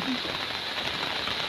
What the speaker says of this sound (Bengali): আর বৃষ্টিটা বিকেলবেলা করেই হচ্ছে